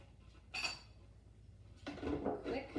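A spatula scrapes around the inside of a plastic food processor bowl of chocolate hummus in short bursts, with a brief clinking scrape early and a longer scraping stretch near the end.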